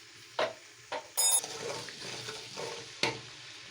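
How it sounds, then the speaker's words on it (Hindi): Cumin seeds sizzling in half a cup of hot ghee in a kadai, a steady crackling fry with several sharp spoon and metal clinks against the pan. "अब इसके अंदर ज़ीरा डालेंगे 1 चम्मच।"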